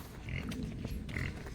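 A pig tied to a mango tree on a farm lot grunts in short low snorts under a faint background murmur, fairly close, with brief scuffling sounds.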